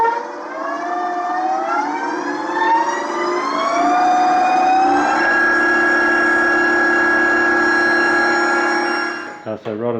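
The electric motor of a converted 1962 Morris Minor Traveller whines as it drives, its pitch rising steadily as it speeds up and then holding at a level hum before stopping with a clunk, close and loud.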